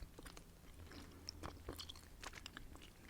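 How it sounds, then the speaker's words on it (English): Close, quiet gum chewing in a whispered ASMR setting, with soft repeated wet smacks and clicks in an uneven rhythm and no talk over them. "Does it bother you? Chewing gum?"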